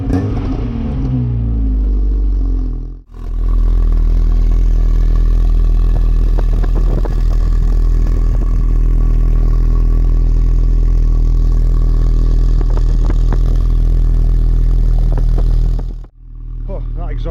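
A Vauxhall Astra CDX estate with a Peco Big Bore backbox and homemade extended manifold runs with a loud, steady, close exhaust drone that holds for over ten seconds before cutting off.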